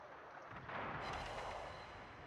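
A naval gun firing in a warship game, a deep rolling artillery boom that swells and lingers for about a second, heard faint and muffled.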